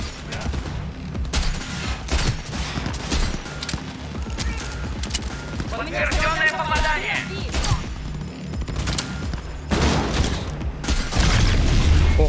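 Chaotic firefight in Cyberpunk 2077 with rattling gunfire, a grenade burst and heavy booms layered over dense combat noise, continuous and loud throughout.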